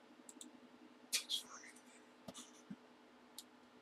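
Sparse, quiet clicks and taps on a computer keyboard come in irregular bursts, faint and close, against a low background hum.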